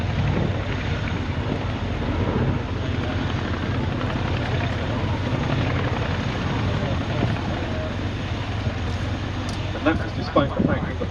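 B-17 bomber Sally B, a flying memorial to the 8th Air Force, drones overhead on its propeller engines in a steady, broad rumble with wind buffeting the microphone throughout.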